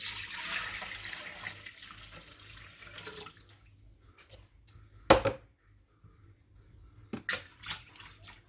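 Tap water runs into a pot filling with about 1.5 litres for spaghetti, a steady splashing stream that cuts off, followed by a few clanks and knocks from the kitchen.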